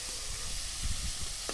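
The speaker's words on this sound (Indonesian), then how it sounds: "Cek kene iki wis goreng rampung" Salted jambal fish fries in a pan with a steady close sizzle and bursts of crackling and spitting oil, with no voices.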